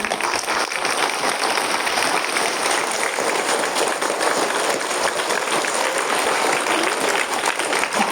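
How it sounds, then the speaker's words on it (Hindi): Sustained, energetic applause from a school audience of children for the school director, a thick even wash of many hands clapping at constant loudness for several seconds. "बहुत बहुत धन्यवाद सर के लिए तालियां बजाएंगे बेटा।"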